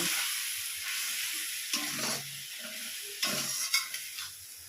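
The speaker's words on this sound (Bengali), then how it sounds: "এবার মশলাটাকে আমি 3 থেকে 4 মিনিট ভালো করে নাড়াচাড়া করে নেব।" Masala for a bhetki fish-bone dish sizzles softly in a frying pan with a little water, with intermittent scraping and stirring strokes over the hiss and no speech.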